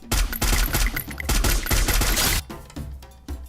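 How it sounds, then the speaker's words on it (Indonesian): Enemy gunfire in a battle-royale shooter game crackles in dense rapid bursts of automatic fire for about two seconds, then breaks off into scattered, quieter shots. "Nah, itu dia yang nembak."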